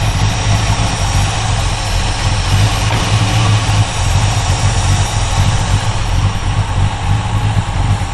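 A Mercury Cougar engine runs rough and loud up close in a repair shop, with a constant low rumble and uneven idle throughout, and nobody speaking.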